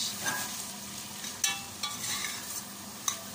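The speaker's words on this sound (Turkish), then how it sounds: "güzel pişsin şimdi salçada." Meat frying in tomato paste in a pan, a close steady sizzle broken by a few sharp stirring scrapes and clicks.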